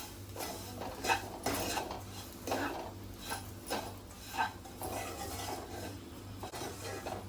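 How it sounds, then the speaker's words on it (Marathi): Grated coconut and semolina dry-roasting in a pan for coconut ladoo, stirred steadily with a metal spoon that scrapes and clinks against the pan in a soft, repeated rhythm, close up with no talk. "खोबरं सुद्धा आपण पाच सहा मिनिटं भाजून घेऊया रव्याबरोबरच"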